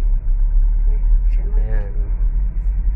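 Road traffic at a busy street intersection with a stoplight, a continuous low rumble of cars and vehicles passing nearby, with a faint voice heard briefly over it.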